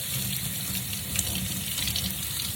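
A steady stream of warm tap water pours into a sink, a close, even rushing splash with a faint slosh partway through.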